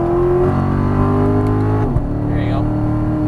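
A 2014 Chevrolet Corvette C7 accelerating on a race track, a loud close engine note climbing steadily through the revs, with a quick shift-like dip and another rising pull afterward.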